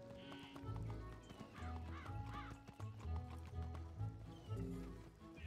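Horse hooves clip-clopping at a gallop in the video game Wizard101, a steady rhythmic patter with occasional whinnies over game music and effects.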